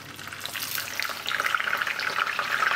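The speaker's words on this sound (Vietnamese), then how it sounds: "nghe cái mùi dầu nó kêu tăng tăng tăng không?" Dried snakeskin gourami fish frying in hot oil in a pan makes a continuous, close crackling sizzle that grows louder and busier partway through, with no talking.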